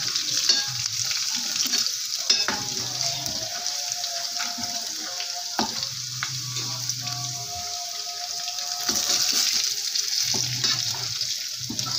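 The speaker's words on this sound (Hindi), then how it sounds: "ये देखिए हमारा तड़का ब्राउन होने लग गया" Finely chopped garlic and spices sizzle and crackle steadily in hot oil, browning as a tempering for dal, a continuous close frying hiss with occasional stirring clinks, no voices.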